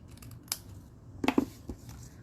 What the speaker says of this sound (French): Là, ça me tente de prendre mon petit bout de retaille. Je vais le couper en deux.